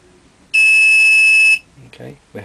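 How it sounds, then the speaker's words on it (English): A single loud electronic beep from a powder dispenser holds for about a second while charging a 6.5x55 SE rifle case for reloading, then a voice begins speaking. "Okay, we had the beep."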